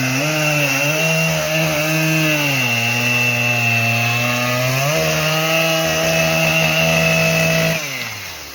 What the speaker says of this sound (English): We also tried to turn it sideways so that the Husky bar, since it's a smaller bar, can cut through it this way.